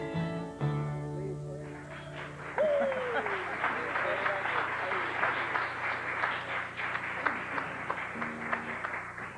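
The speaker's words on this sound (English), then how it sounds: "you got applause for that, too" Audience applause following a song, rising out of the final sustained tones and clapping steadily with scattered whoops for several seconds before music resumes faintly.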